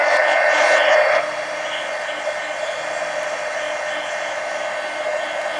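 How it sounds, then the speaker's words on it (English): A heat gun drying mixed media collage art cards blows a loud, steady close-up whooshing roar, briefly louder at the start before settling to a constant hum. "let me go ahead and hit these all with the heat gun."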